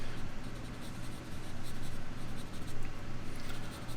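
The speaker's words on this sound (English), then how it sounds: "shade this rock in, or blend the rock in just a little bit" Pencil shading and blending a rock on drawing paper, a close, continuous scratchy rubbing in quick back-and-forth strokes, with no speech.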